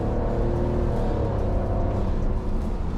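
Engine of a 2022 Fiat Pulse with Sport mode engaged, a steady low rumbling drone heard from inside the car, continuous and fairly loud with no talk over it.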